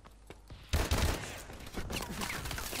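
Atlas 20mm gunfire in Call of Duty Advanced Warfare: a loud burst of rapid, heavy shots erupting after quiet, then continuing as repeated cracks and rattling fire against a busy game background.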